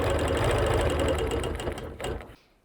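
A sewing machine stitches along a quilt seam with a close, steady mechanical hum that slows near the end, gives a brief final burst, then stops.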